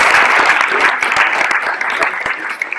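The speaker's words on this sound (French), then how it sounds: "on peut encore applaudir" An audience at a local associations' honours event applauds with loud, sustained clapping throughout.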